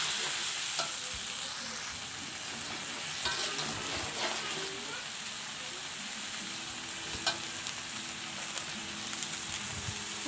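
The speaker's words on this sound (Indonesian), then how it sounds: "Setelah panas, terus kita gonceng bahannya tadi." Sambal ingredients stir-fried in hot oil crackle and sizzle steadily, with intermittent scraping and clattering from the stirring utensil, fairly close and continuous.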